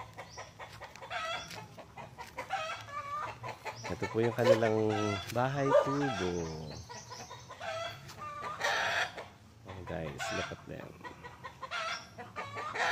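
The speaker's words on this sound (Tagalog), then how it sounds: "Puro siya may mga alagang manok" Farm chickens cluck and squawk nearby, with a rooster crowing loudly in the middle, while a person talks intermittently over the birds.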